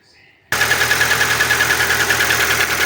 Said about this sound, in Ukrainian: а зараз я запущу двигун і подивимось